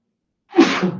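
A single close sneeze bursts out after a moment of silence, sharp at the start and trailing off briefly.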